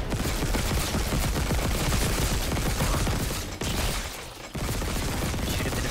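A pulse rifle in Dead Space Remake fires a dense, continuous automatic stream, loud and close, with two brief breaks before the fire resumes.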